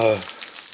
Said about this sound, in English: Our bacon's doing good. Got more frying there.